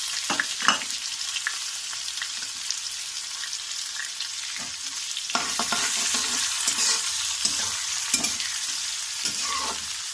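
Sliced onions and green chillies fry in oil in a pan for besan curry, with a steady loud sizzle and scattered stirring scrapes and knocks. The sizzle grows fuller partway through. No one speaks.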